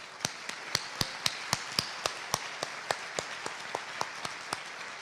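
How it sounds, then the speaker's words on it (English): Applause for task force members at a conference plenary session, heard as sparse, evenly spaced sharp claps in a steady rhythm over a soft room background. "Let's give them a round of applause."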